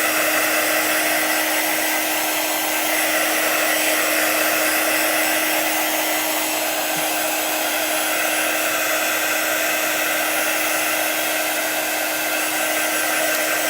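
Steady, loud hair dryer blowing continuously to dry chalk paste on a stencil, a constant close whoosh with a fixed motor whine and no breaks.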